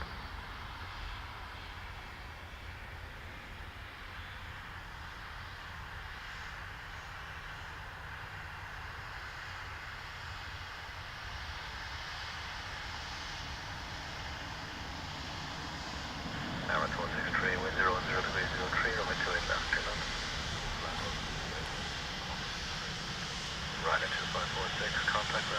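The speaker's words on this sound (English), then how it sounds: "So this is a Dash 8 with the retrofit winglets." A Dash 8 turboprop fitted with retrofit winglets at Dublin Airport, its steady engine drone sustained throughout and swelling louder toward the end, with faint radio chatter and voices mixed in.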